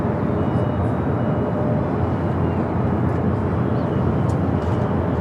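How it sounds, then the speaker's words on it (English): A Japan Airlines Airbus A350-1000 takes off at LAX with a steady, broad jet roar that holds loud and even throughout, mixed with faint outdoor background noise. "Japan Airlines Flight 15 heading to Tokyo Haneda. A350 1000 next takeoff on the south side."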